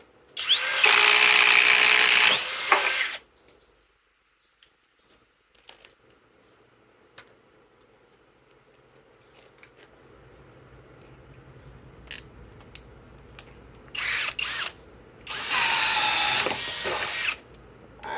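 Flex FX1231 compact hammer drill and Flex Quick Eject impact driver, both on 2.5 batteries, in short loud close bursts: one at the start, then after a quiet stretch of faint clicks, two more near the end.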